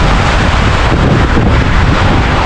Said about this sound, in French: Il y a quand même des grosses vagues aujourd'hui.